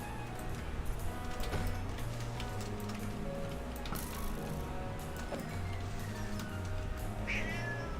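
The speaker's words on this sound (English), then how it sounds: "Her brother's meow is so half-assed and lazy sounding." A cat meows repeatedly indoors, with drawn-out, lazy-sounding calls recurring over a faint steady ticking and whirring background hum.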